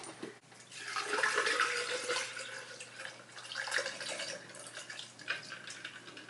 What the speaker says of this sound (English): I've been ready to pour this in my cup.